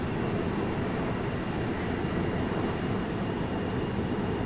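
DB class 430 S-Bahn electric multiple unit on a Frankfurt S-Bahn route in Train Sim World 5, a steady, loud rumbling rail roll with dense low-frequency noise that holds level throughout, no voices.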